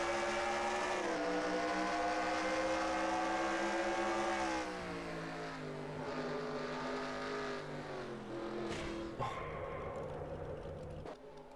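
A race car engine roars loud and close from onboard car 13 on an oval track, its harmonic whine holding high, dipping as the driver lifts around 4 seconds and again near 9 seconds, then climbing back.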